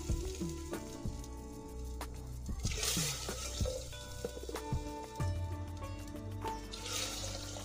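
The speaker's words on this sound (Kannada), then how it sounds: "ಒಂದು 3 ಬಟ್ಟಲ್ನಷ್ಟು ನೀರು ಹಾಕೋತಾ ಇದ್ದೀನಿ." Three bowls of water poured into a hot pan used for fenugreek leaves bring a rushing, sizzling wash, with knocks and scrapes from the bowl against the pan and bursts of hiss, close and fairly loud.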